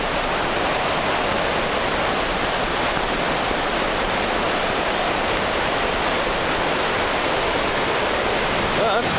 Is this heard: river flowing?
yes